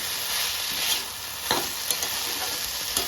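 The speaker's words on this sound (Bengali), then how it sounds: "আদা বাটাটাকেও এই আলু আর ফুলকপির সঙ্গে খুব ভালো করে কষিয়ে নেব" Potato and cauliflower stir-fried with ginger paste in a pan, a continuous bright sizzle with a few sharp scrapes and knocks of a stirring spoon, no talking.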